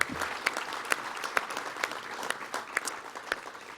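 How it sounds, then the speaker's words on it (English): An audience at a commemorative gathering claps together, a dense sustained round of applause with many individual hand claps standing out, no voices over it. "they deserve, the entire Wolf family, a huge round of applause"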